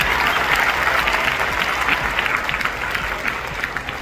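Audience at a village general knowledge competition gives a round of applause, dense clapping from many people that starts strong and gradually thins and softens over four seconds.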